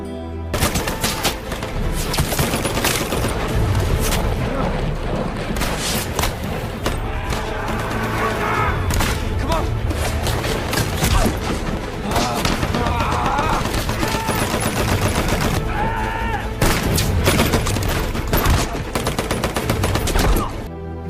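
War movie battle scene with dense, continuous gunfire: rapid machine-gun bursts and scattered shots layered with booms and chaotic noise, loud and sustained throughout, with some shouting voices mixed in.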